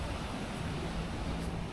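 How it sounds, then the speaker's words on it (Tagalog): Strong wind and rough sea waves on the Batangas coast, a steady, dense roar of broadband noise with no distinct breaks. "Tsaka malakas na yung dagat ng alon."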